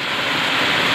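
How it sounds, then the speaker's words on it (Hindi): Heavy rain pours down at a mining work camp in West Bengal, a loud, dense and unbroken hiss with no voices. "कितना ज़बरदस्त बारिश मेरा वेस्ट बंगाल में हो रहा है"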